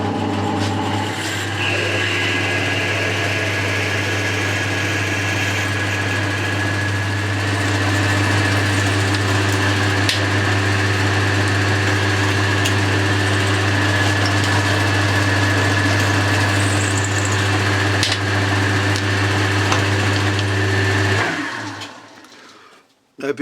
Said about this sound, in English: with my 6mm drill I need to go in at least halfway